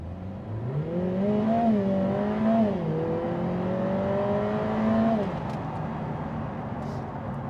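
Lotus Emira with an AMG engine and automatic gearbox accelerating, the engine tone rising and stepping through smooth gearshifts over several seconds before easing off, heard moderately close.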